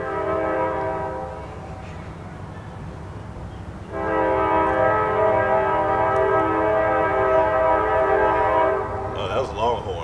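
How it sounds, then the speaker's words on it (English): A passing train sounds its loud horn: a sustained blast, a brief break, then a longer second blast, over a steady rumble of rail cars. "You should probably wait till the train stops."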